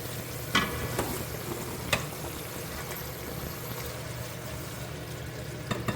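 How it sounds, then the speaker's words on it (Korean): Black bean sauce for jjajangmyeon is stir-fried in plenty of oil, sizzling steadily with occasional sharp spatula scrapes against the pan. "이렇게 살짝 뭉글뭉글 뭉치려고 하는 만큼만 볶고"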